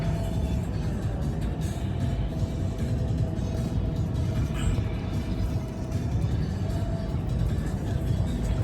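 Car driving along a road in the Alabama Hills, a steady loud interior rumble of engine and tire noise throughout, with faint bumps and no speech.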